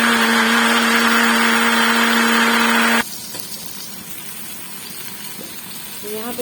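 A kitchen grinder blending chopped tomato and potato into paste: a loud, steady whirring motor hum for about three seconds, then it cuts off, leaving only faint background noise.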